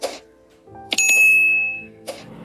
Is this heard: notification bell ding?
yes